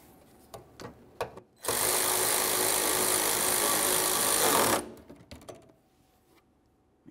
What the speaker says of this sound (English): now I'm going to tighten up all 3 of my mounting bolts